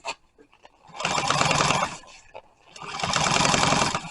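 Sewing machine top stitching boat seat upholstery runs in two sustained bursts of rapid mechanical stitching, close and moderately loud, separated by a short pause with a few light handling clicks.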